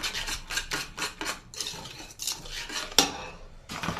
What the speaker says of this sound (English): Important to mix well the dough because you need to have a good texture of the dough.